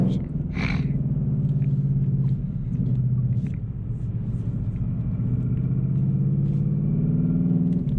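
A Ford Mustang GT PP2 on 285 tires drives along a road, its engine a steady, deep cabin drone that holds a constant level throughout, with no clear speech.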